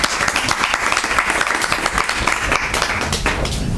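An audience at a panel discussion event claps in welcome, a dense, loud, continuous wash of applause filling the room without pause, voices faint underneath.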